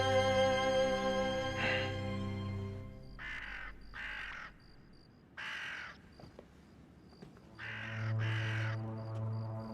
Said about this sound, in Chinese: 外面又有鸦叫